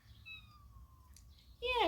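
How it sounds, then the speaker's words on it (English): A cat lets out a single short meow near the end, preceded by faint high tonal chirps over a quiet background. "Yeah, that's my cat."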